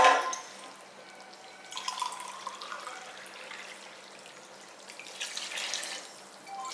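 Warm water pours and splashes into a cooking pot for mutton dum biryani in a few short bursts, quiet and close, with gentle dripping between pours and no voices.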